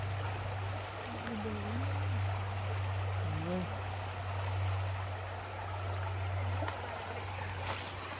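Clear river water runs in a provincial park on a hiking trail, giving a steady broad rushing wash. A low constant hum runs underneath and a few brief chirp-like sounds rise above it, with no clear speech.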